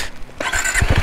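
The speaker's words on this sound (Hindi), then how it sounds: "बाइक फिर स्टार्ट क्यों कर दी?" A motorcycle on a mountain road in Ladakh on the way to Pangong Tso starts up with a brief high squeal, then low, close engine pulses rising at the end.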